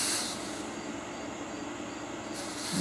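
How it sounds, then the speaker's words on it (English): Faint, steady steam hissing from a pressure canner used for green beans after its jiggler weight is removed, a thin continuous hiss lasting about three seconds in a quiet room. "I still hear a little steam come out, but not much."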